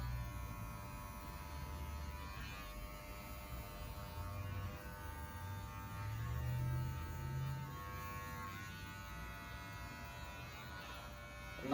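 Electric hair trimmer buzzing steadily near the head during a skin fade haircut, a low continuous hum with slight swells in intensity, heard alone without speech.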